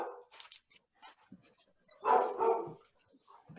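A dog barks several times in a lively burst, heard at moderate distance in a quiet indoor space, with a louder cluster of barks in the middle between sparse softer sounds.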